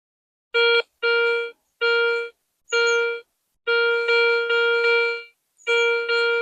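A Garrett Euro Ace metal detector signals on a gold chain with a series of loud, clear, steady beeping tones, several short bursts followed by a longer sustained one, alone without talk.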